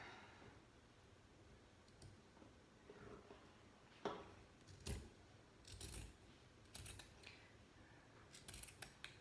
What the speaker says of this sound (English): So what we're going to do is just cut straight across the bottom of the t-shirt.